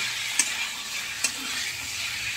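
Mutton curry sautéed and stirred in a pan with black pepper powder and turmeric: a steady frying sizzle with a few sharp spatula scrapes and clicks spaced through it, close and fairly quiet.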